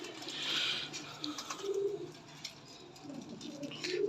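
Soft, low pigeon coos repeat a few times among rustling and background noise, fairly faint and without speech.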